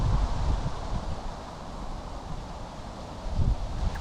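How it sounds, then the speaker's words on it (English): Strong gale-force wind buffeting the microphone outdoors beside a fishing lake, a constant low roar with gusts swelling toward the end. "This wind coming in, it is blowing a gale."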